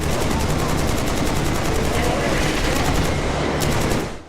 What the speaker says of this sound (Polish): Odgłosy wystrzałów miło dudnią, robiąc użytek z subwoofera